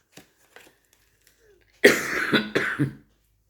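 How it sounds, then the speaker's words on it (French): A cluster of harsh, hacking coughs bursts out close to the mic after a few faint clicks, three or four rough expulsions in quick succession. "je me suis étouffé tout à l'heure, c'est pour ça que je tousse"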